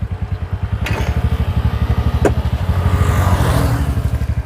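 A kick-started scooter engine idles steadily after starting, a close, even putter of rapid low pulses running throughout with a brief click partway.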